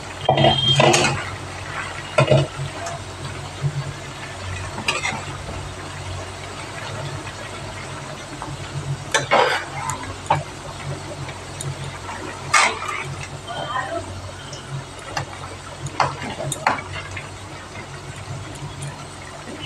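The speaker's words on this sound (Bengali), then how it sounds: "নাড়াচাড়া দিয়ে দিয়েছি।" Bottle gourd greens are stirred in a pan, with a spoon scraping and knocking against the metal in scattered bursts over a low background hum, while a person talks at times.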